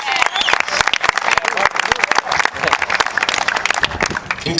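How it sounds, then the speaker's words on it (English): A crowd gathered for the Guardian Angels and Curtis Sliwa claps vigorously, a thick, continuous barrage of close hand claps holding steady throughout. "Nice round of applause."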